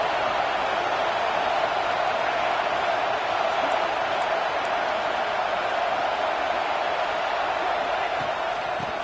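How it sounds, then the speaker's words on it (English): A football stadium crowd roars in a continuous, dense wash of cheering, steady and loud throughout with no clear voices standing out. "This crowd ready to make its presence known."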